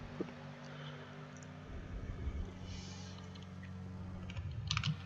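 Quiet computer mouse and keyboard clicks from someone playing a NASCAR Racing 2003 stock car game at Talladega, a few soft scattered taps over a low steady hum.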